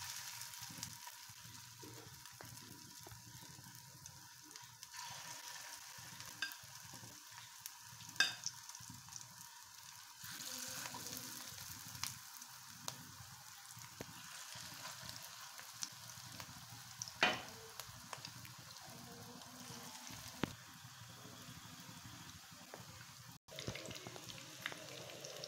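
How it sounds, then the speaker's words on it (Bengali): Pakoras fry gently in a pan over low heat, producing a faint, continuous sizzle with scattered small pops and clicks, quiet and steady throughout. "আমি এখন পাকোড়াগুলা ভেজে নেব।"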